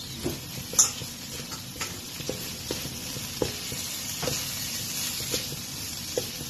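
Carrots, tomatoes and onions sautéing in leftover sauce for chicken biryani, a close steady sizzle with intermittent spoon taps and stirring scrapes against the pan, no talking.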